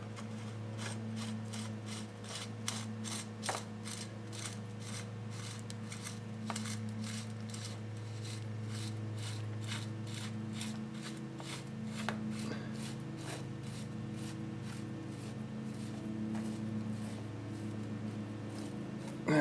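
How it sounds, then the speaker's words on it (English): A threaded bicycle headset bearing race is screwed on by hand, giving a steady, faint scraping and grinding with small ratchety ticks that run continuously over a low background hum. "install the threaded bearing race."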